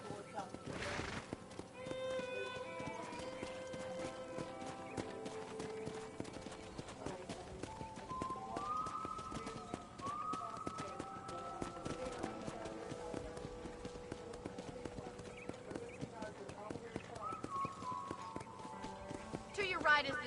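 Horse hooves clip-clop steadily on a ranch in a game while a person rides, heard under a music score and speech, with an occasional whinny.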